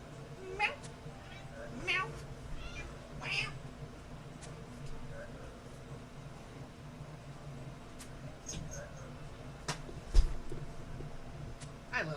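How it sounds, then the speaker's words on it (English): A pet house cat meows a few times at moderate distance, short scattered calls amid quiet room noise while a gamer talks intermittently. "my kitty. She plays fetch."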